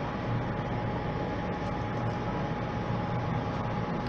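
An Oscar class passenger train rumbles steadily into a siding, a broad, continuous rolling noise with a faint high whine running throughout.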